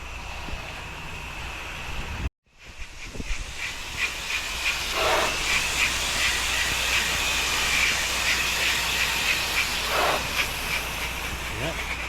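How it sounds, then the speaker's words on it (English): A pressure washer with a 1.8 injector sprays steadily to rinse down house windows and the gutter line outdoors on a windy day, a loud continuous hiss with brief pauses and a voice talking over it. "Now we're just rinsing down. Starting up with those windows and the gutter line."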